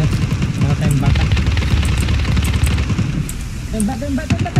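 Rapid gunfire crackles and pops through a shooting match in the video game Ring of Elysium, continuous and fairly loud beneath players talking to each other.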